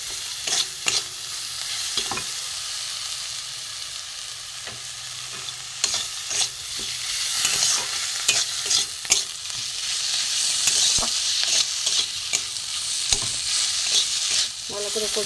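A spice paste of cumin, coriander, chilli and grated ginger fries in a pan for a river fish curry, with a steady close sizzle and repeated scraping strokes of a spatula stirring it.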